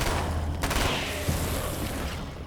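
An SMG fires in the video game Alan Wake's American Nightmare: a short burst of rapid gunfire followed by a fading rumble and a single later shot, loud against a noisy game background.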